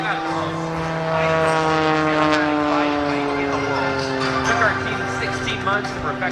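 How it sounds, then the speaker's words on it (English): Oracle Challenger 3 aerobatic propeller plane at the 2018 Jones Beach Air Show, climbing vertical into a front flip; a loud, sustained droning engine note slides slowly downward in pitch while an announcer talks over it. "It's the Oracle Challenger 3 coming to the vertical into a front flip."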